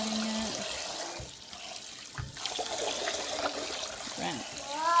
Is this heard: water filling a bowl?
yes